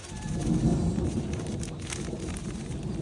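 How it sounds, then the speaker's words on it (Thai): Steady rain pours down close by, a dense continuous wash of patter with a heavy low rumble underneath, no voices. "ฝนตกครับ"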